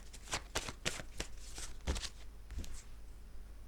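A deck of 32 playing cards is shuffled by hand, giving a run of quick, crisp riffling bursts close to the mic. Each bursts and settles quietly, with no talking.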